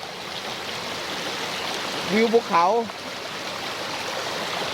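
A clear, cool stream flows at Kaeng Khoi in Saraburi, giving a steady, even rushing wash from start to finish, with a brief spoken phrase partway through.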